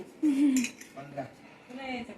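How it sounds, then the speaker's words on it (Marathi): Iron griddle (tava) and pans handled in a home kitchen, with a few light metallic clinks and knocks beneath nearby conversation. "नाही पॅन नाही, हा तवा आहे तवा."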